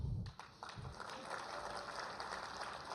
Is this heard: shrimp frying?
no